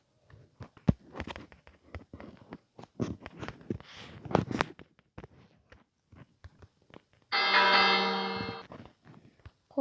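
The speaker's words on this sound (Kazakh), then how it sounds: "Қоңырау." A school bell rings in one loud, steady burst of a little over a second near the end, following several seconds of scattered clatter and busy classroom noise.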